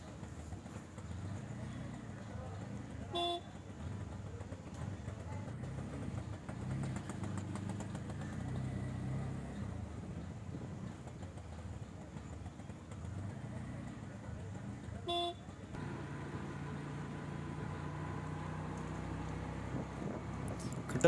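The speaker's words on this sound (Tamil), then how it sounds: "பாருங்கள், இதில் இவ்வளோ வாகன நெரிசலாக இருக்குதுண்டு" A traffic jam of many idling vehicles, including auto-rickshaws, queued in a line during a petrol shortage. Engines drone steadily and continuously, with faint voices in the background.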